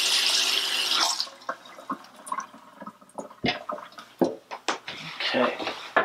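Running tap water splashes steadily for about a second, then gives way to intermittent rinsing splashes and drips while film-developing chemistry gear is washed, with a person speaking at times.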